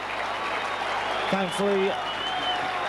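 A rugby league crowd at a Widnes versus Leeds Premiership match applauds injured player John Devereux as he gets back to his feet, a steady wash of clapping under a commentator's voice.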